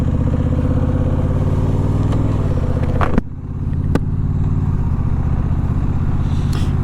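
A Honda Rebel 1100 rumbles along a road at night, its engine note shifting as it rolls onto deep gravel, with a sharp clatter and brief dip midway before the steady drone resumes.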